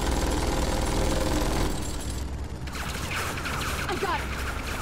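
Turret gunfire from the video game Tales from the Borderlands rattles in dense, continuous bursts, loud and close, with a brief lull partway through before the firing resumes.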